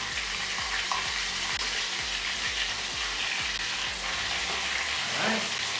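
Malaysian potato patties (bergedil) frying in a pan, a continuous close sizzle with regular rhythmic scraping or stirring clicks underneath, no talking.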